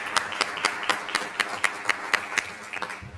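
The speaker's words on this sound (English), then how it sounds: "Let's have a round of applause for Laura." An audience at a school board meeting claps in a short round of applause, with quick, fairly even claps that carry over a low room murmur.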